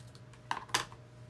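Scissors snip through a small piece of green fabric, two quick quiet crisp cuts close by in an otherwise still room.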